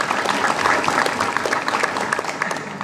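A crowd at a youth sports tournament event in Central Lampung applauds the organizing committee, giving sustained dense clapping that stays loud and even throughout the short burst.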